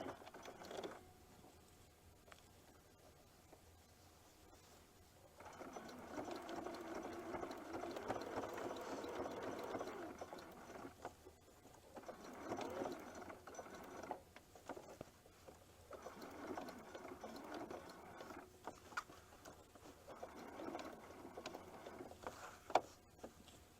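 A sewing machine runs a straight-edge stitch around a quilted snowman table runner, whirring quietly in several separate bursts with short pauses between them, at low volume and without speech.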